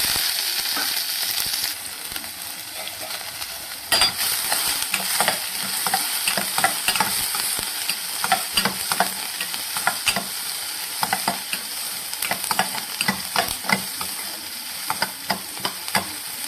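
Fennel seeds and onions fry in hot oil for a chana dal and cabbage stir-fry, a constant crackling sizzle broken by repeated scraping and clicking strokes of a spoon stirring the pan, close and fairly loud with no talk.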